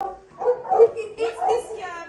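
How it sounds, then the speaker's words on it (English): A dog barking sound is played during a children's guess-the-sound game, with a few loud barks in quick succession, close and indoors. "It's a dog."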